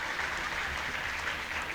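Enthusiastic audience applause welcoming Swami Ramdev at a public gathering, a dense, even wash of clapping from a large crowd that holds steady throughout.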